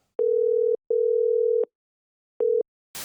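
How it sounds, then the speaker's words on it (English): Ringback tone while a guest is phoned live on air during a radio show: three steady, mid-pitched tone bursts separated by short silences, clean and close, then a brief burst of noise at the very end. "Ringing a guest live on air."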